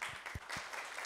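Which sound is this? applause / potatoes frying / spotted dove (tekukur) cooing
applause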